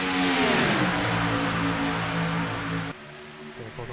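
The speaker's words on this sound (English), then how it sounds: "Here comes a 15 car now." A race car engine in an iRacing oval race at Texas roars loudly past, its harmonic whine sliding downward, then drops abruptly to a quieter hum as the car moves away.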